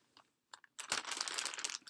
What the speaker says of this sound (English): it's in a plastic bag right now